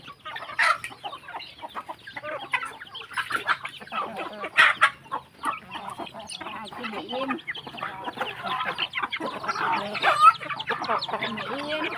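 Game chickens and laying hens clucking steadily and close on a rural farm in Isan, Thailand, several birds overlapping in busy, continuous chatter, with a faint voice now and then underneath.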